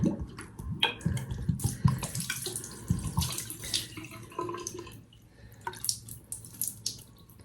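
Water pours and splashes into a container indoors, a steady running stream with irregular gurgles and drips, close and moderately loud, with no talking.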